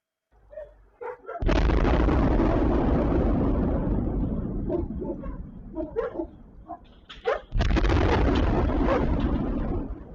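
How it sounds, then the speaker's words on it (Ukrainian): Two massive explosions from aerial bombs in Zaporizhzhia roar in, the first rumbling for several seconds before fading into lingering echoes, then a second heavy blast booms just as loud. "З таких потужних вибухів розпочався ранок у місті."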